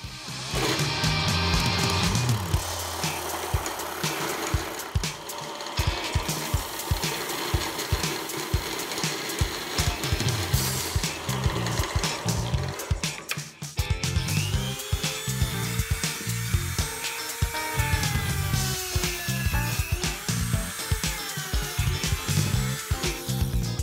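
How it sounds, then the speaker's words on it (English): Belt sander grinding and shaping a tomahawk, a continuous loud abrasive whine with rapid rhythmic pulses as the workpiece is pressed and moved against the belt, close to the listener throughout. "I think I can do the rest of that on the belt sander"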